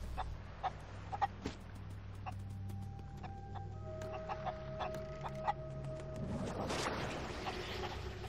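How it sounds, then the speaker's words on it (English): A chicken on an island in a video game clucks in short, repeated bursts at moderate volume over a low ambient hum, with a slightly louder flurry near the end. "I'm gonna get this chicken"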